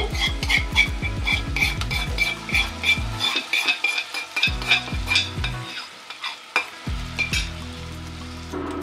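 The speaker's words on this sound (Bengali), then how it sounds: "মশলাটাকে এখন কষিয়ে নেব" Ground spices stirred and fried in a pan with onion for a hilsa fish curry, a steady sizzle broken by repeated scraping strokes of a spatula against the metal, close and fairly loud with no talk.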